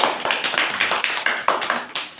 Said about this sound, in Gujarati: બેને તાળીઓથી વધાવો.